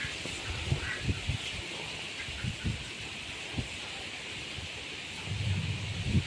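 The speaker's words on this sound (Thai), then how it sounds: "โอ้ตกทางนู้นแล้วเสียงฟ้าร้องทางนู้น" Distant thunder rolls during a rainstorm with strong gusting wind, faint low rumbles rising now and then over a steady hiss of wind and rain.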